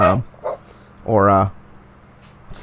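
Dogs whimper in a few short, high whining cries, close and fairly loud, followed by near silence with a faint trailing sound.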